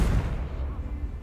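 Blast of the Confringo spell in Hogwarts Legacy, a single deep booming impact that fades over about a second.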